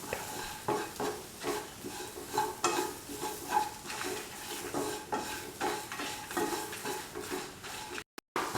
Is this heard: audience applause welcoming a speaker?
no